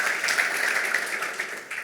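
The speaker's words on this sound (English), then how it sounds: "it's worth an applause" Audience applause at a green startup pitch slam event, a steady wash of many hands clapping throughout, moderately loud and continuous with no talking.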